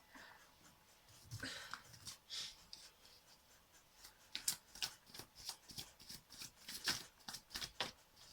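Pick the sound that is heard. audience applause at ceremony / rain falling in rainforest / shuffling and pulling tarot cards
shuffling and pulling tarot cards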